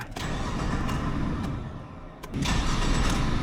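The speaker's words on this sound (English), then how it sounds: "The ring gear for the starter is definitely struggling." The starter motor of a 1996 Ford F-350 with a 351W engine cranks in a steady, grinding churn, dips briefly, then resumes louder, close by.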